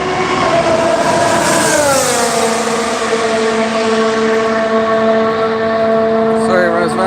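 A Honda Formula 1 car screams past at the Barcelona circuit during testing, its high-pitched engine wail loud and close, holding steady before dropping in pitch as it moves away.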